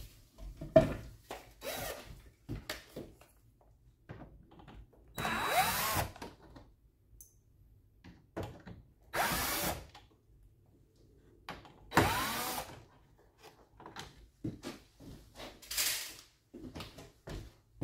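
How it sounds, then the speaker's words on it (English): A power screwdriver backs screws out of a mini-split air conditioner indoor unit in several short whirring bursts, spaced a few seconds apart, with faint handling clicks between them. "We're going to take those screws out first."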